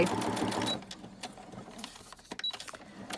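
A sewing machine running close up as it stitches a laminated envelope pocket, a steady whirring burst that then breaks into short, uneven bursts of stitching with clicks.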